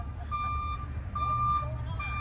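Reversing beeps from a truck on an island street, a steady high tone pulsing in evenly spaced bursts, loud and close over low engine rumble.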